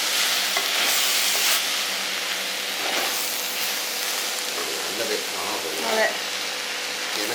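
Spinach stir fry sizzles in a pan while it is stirred, with a continuous loud frying hiss and occasional scraping of the stirring utensil, all fairly close.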